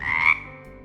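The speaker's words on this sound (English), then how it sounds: "frog" A frog gives a single short croak, loud at first and then fading quickly, heard alone and close.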